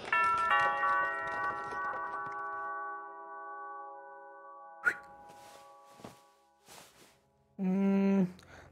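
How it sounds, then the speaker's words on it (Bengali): A doorbell chimes with a sustained ringing tone that slowly decays, followed by a few dull knocks and thuds and then a short, louder bell ring at the end, as part of a spoken audio story. "ঘোড়ার পায়ের টকবক শব্দ, গাড়ির চাকার ঘড়ঘড় আওয়াজ এবং দোরগোড়ায় ঘণ্টার ধ্বনি শোনা গেল"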